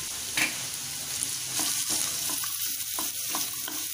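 Small radish pieces frying in a pan, a continuous close sizzle with rhythmic scraping stirs every half second or so, steady and unaccompanied by speech.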